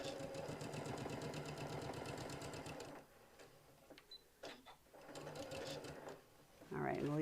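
Domestic sewing machine stitching a lavender eye pillow cover on a small stitch length, running slowly and steadily for about three seconds, then stopping while a person talks, with short bursts of stitching between the speech.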